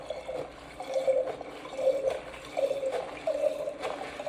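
Very cold water glugs in uneven pulses from a squeezed bottle into a container, a close gurgling pour with rhythmic bursts and no voices.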